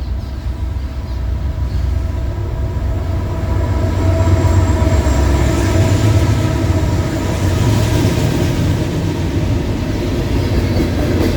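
A Norfolk Southern freight train led by diesel locomotives rumbles steadily past at close range in North Alabama near Stevenson, with a continuous loud roar of engines and rolling wagons and no pause throughout.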